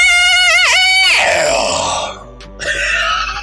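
A person lets out a long, loud rock-style scream, a sustained raspy yell that bends in pitch and breaks into a rough roar before trailing off, with brief noise after.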